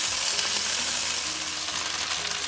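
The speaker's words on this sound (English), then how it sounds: "you can see it's frying nicely" Chicken pieces for Jamaican curry chicken fry steadily in a pan, a dense, even sizzle with crackling throughout, close and continuous with no talking.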